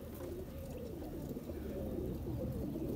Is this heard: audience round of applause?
no